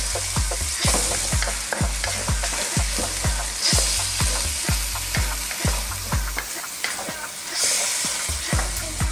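Filipino-style spaghetti sauce with light brown sugar gets stirred in a hot pan: a steady sizzle under rhythmic scraping strokes of a spoon, repeating roughly twice a second, close and clear with no talking.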